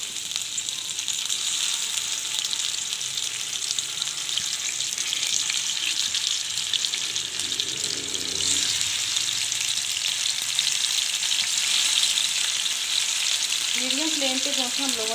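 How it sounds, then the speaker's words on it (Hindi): Marinated chicken frying in ghee in a pan for Kashmiri chicken masala, a constant dense sizzle held close for the whole stretch, with a brief faint voice-like tone near the end. "अब इसी मैगिनेट किए हुए चिकन को जो आपको वीडियो के शुरू में दिखाया था मैं फ्राई कर रही हूँ"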